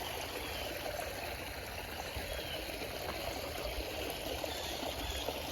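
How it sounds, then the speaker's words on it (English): Water drains steadily from the low corner of a koi pond, a continuous close trickling and streaming with no pauses. "Still got some water draining out from where the pressure of having the water inside push it out."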